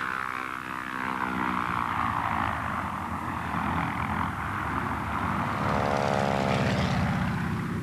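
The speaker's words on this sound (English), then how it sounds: "So strongly built was the Trimotor, it could even loop the loop." A Ford Trimotor, a three-engined propeller airplane, drones loudly and steadily overhead, its layered engine hum swelling slightly as it passes close by, with no voices.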